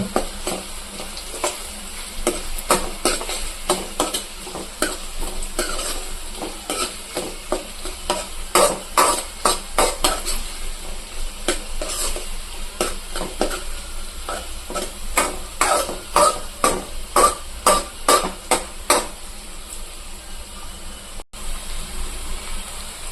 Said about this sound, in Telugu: ఇంకా కొంచెం ఉల్లిగడ్డ అనేది కాలాలి కొంచెం లైట్గా